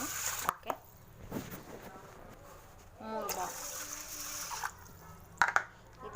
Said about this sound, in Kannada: ಎರಡು ಬೌಲ್ ನೀರು